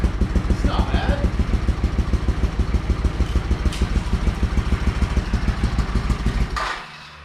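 A custom motorcycle engine idles close by with a loud, steady, rapid thumping putter that runs evenly for several seconds, then cuts off abruptly and falls quiet.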